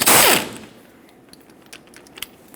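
A 17mm socket breaks loose the lower slider pin bolt on a front brake caliper of a 1995-2004 Toyota Tacoma 2WD, a single sharp loud crack and ratcheting burst at the start, followed by a few faint clicks.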